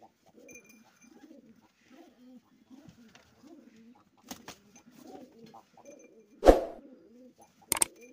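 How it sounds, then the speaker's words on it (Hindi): A male pigeon coos in soft, repeated low gurgling phrases close by, broken by a couple of sharp louder knocks or flaps, with a voice speaking quietly in between. "ये देखो कैसे गुटक रहा था।"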